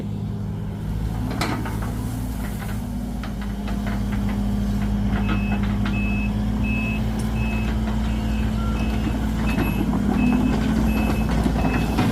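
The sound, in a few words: Sumitomo excavator working to pull out a 7610S tractor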